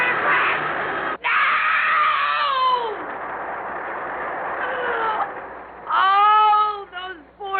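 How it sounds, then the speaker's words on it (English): High, wailing screams from several people in a radio drama after a train crash, loud and overlapping, with a brief break and then a sharper burst of shrieks near the end. "All those screaming people."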